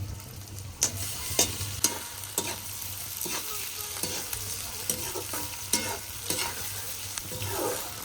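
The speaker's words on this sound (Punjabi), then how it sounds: "ਹੁਣ ਆਪਾਂ ਤੇਲ ਪਾਉਣ ਲੱਗੇ ਤੜਕਾ ਲਾਉਣ ਵਾਸਤੇ ਜੀਰਾ ਪਾਉਣ ਲੱਗੇ ਫਿਰ ਆਪਾਂ ਲਸਣ ਪਾਉਣ ਲੱਗੇ" Cumin, garlic and green chilli sizzle in hot oil for a tempering, with a continuous close crackle and regular spatula scrapes against the pan.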